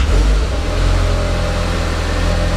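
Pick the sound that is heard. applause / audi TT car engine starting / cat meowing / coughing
audi TT car engine starting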